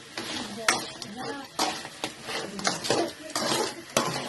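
Crab pieces being mixed by hand with garlic, rice powder and coriander powder in a metal bowl, giving repeated close clinks and scraping rustles in uneven bursts, with a voice talking over them.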